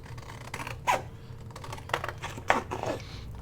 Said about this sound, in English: Templates make it so much easier to cut your tags out.